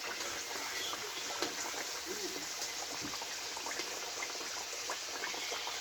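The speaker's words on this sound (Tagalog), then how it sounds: "Ipiprito muna ako ngayon." Sweet potato (kamote) slices frying in hot oil, a steady fine sizzle and bubbling with small pops, moderately close and continuous, no talking.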